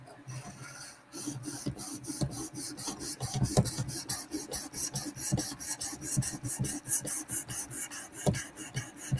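A knife blade rasps in quick, regular strokes across a 600 grit Work Sharp sharpening stone, a close, dry scraping rhythm repeating steadily throughout.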